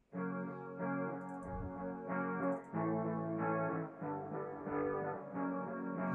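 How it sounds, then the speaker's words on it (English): Guitar tone run through a MicroShift effect on the Acoustic Guitar Clean White preset, sustained chorused chords that swell and shift in steady rhythmic changes, played alone without talking. "It's called Acoustic Guitar Clean White."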